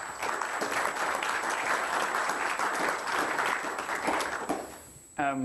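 Audience applause in a conference hall at a developer event, a steady dense clapping that runs nearly the whole time and tails off before a brief voice at the end.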